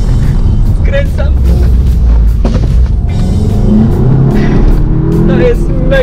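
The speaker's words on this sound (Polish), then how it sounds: "hamuję, skręcam, przyspieszam, hamuję, skręcam, przyspieszam, hamuję, skręcam." A VW Golf GTI Clubsport drives, brakes, turns and accelerates. Its engine drone and surges stay loud and steady under continuous talking.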